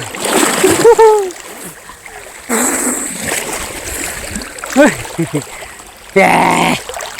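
River water splashes and sloshes in bursts as people bathe outdoors in a river, with voices and chatter mixed in between the splashes.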